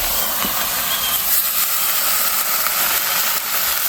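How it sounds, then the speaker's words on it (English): Food sizzling on a small Royal Gourmet propane flat top griddle at a campground, a loud, continuous hiss with faint crackles and pops, no voices over it. "It is cooking. This little flat top Royal Gourmet."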